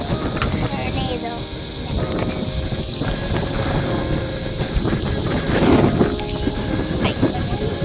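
Strong wind blowing outdoors in Oman, a continuous loud roar and buffeting across the microphone that swells and gusts throughout.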